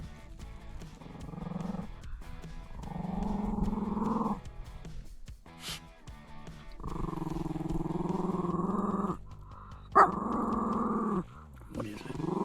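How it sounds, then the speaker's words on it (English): A dog growls and vocalizes in long, loud, drawn-out bursts with a short sharp yelp between them, close by and outdoors, with no talking over it. "I'm with my wife Leslie and our dog Greer."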